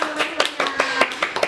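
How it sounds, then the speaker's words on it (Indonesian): A small group in a group guidance session claps hands together in a quick, fairly regular rhythm of sharp close-up taps, about seven distinct bursts in quick succession. "Ya, tepuk tangan dulu dong."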